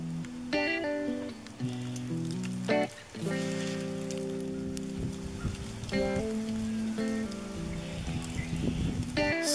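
Rain falls steadily as a soft patter, continuous and fairly faint, with a few louder tonal sounds over it.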